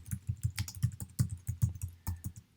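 Typing on a computer keyboard while writing paragraphs in a discussion forum, with a steady run of close, crisp key clicks and a few heavier keystrokes, no talking.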